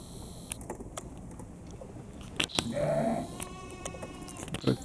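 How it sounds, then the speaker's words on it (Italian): Sheep and goats, including newborn lambs, on a farm give a short bleat near the middle, with a few faint calls and rustling around it at moderate distance. "Sono nati gli agnellini e ci sono tante caprette."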